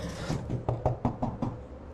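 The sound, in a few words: knocking on a door in the video game Curse Digicam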